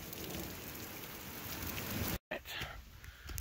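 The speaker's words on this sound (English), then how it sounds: "the worst of the thunderstorm is past. So Dax and I are trudging through a little rain shower and the mud" Light, steady rain shower falling in the mountains after a thunderstorm, a close broadband patter holding level with a brief gap near the end and no voices.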